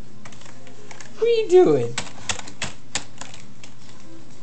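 Keys clatter on a keyboard in short scattered bursts while a voice speaks over the start.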